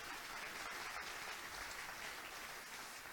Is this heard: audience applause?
yes